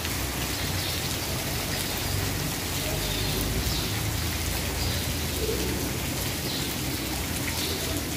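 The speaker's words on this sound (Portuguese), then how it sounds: "É chuva na cidade de Viçosa." Heavy rain pouring over the city of Viçosa, Alagoas, a steady, dense hiss of drops hitting surfaces that stays constant throughout, with no one speaking.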